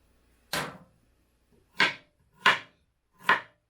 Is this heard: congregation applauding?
no